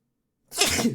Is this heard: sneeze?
yes